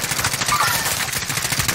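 Rapid automatic gunfire while shooting an enemy in the battle royale video game Call of Duty Warzone, a dense continuous burst of shots, loud and close throughout.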